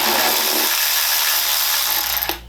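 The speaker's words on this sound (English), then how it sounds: "I'm gonna go ahead and pull all the bolts off for this." A power tool takes bolts off a BMW E36, its loud, close, continuous high whine running for about two seconds before it abruptly winds down and stops.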